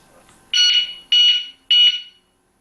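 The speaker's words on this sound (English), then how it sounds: "So any time that you do touch the lock now, it will give you a beep that the security officer at night should be able to hear." An anti-theft alarm lock giving its pre-warning when touched: three loud, sharp electronic beeps in quick succession, evenly spaced, close and alone, then silence.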